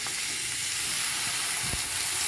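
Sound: chopped eggplants added to sizzling onion and garlic in pan

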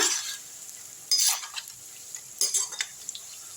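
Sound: bitter gourd pieces frying in oil

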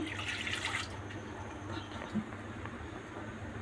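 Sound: a cup of water being poured in for coconut ice cream

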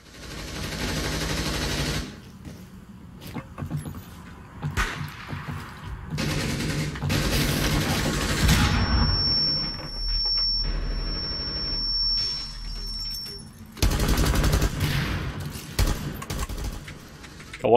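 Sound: gunfire in Rainbow Six Siege video game

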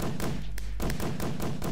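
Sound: fireworks rockets exploding in Minecraft video game

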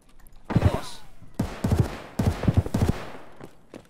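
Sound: gunfire in the video game Escape from Tarkov

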